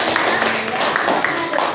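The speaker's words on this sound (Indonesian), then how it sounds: "tepuk tangan untuk kalian semua bisa menjawab ini" A school class claps hands together in a classroom, a short burst of brisk close clapping with overlapping voices beneath it.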